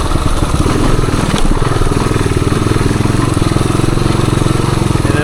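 A 1978 Suzuki DR370 dual-sport motorcycle rides a woods trail, its single-cylinder engine thumping steadily and loudly up close with a rough, continuous low pulse and no talk.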